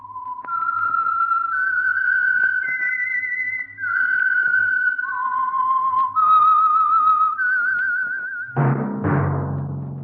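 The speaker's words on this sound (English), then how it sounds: "That whistle is your signal for the Signal Oil Program, The Whistler." A lone human whistler performs the theme signal of the old radio drama The Whistler, a clear, eerie melody of held and sliding notes, followed by a deep orchestral chord striking near the end.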